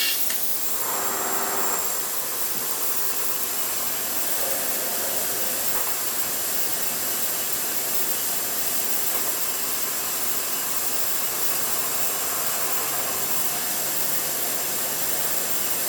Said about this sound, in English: This must not have a good tip because I went shallower on the center drill this time and it's fighting.